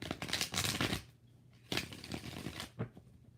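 Tarot cards are shuffled in a few quick bursts of riffling and slapping, close and fairly loud, with short pauses between rounds.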